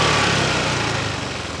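A QJMotor Fortress 160 touring scooter engine runs at idle, a steady, loud, buzzy drone that stays close and fairly even, with no talking.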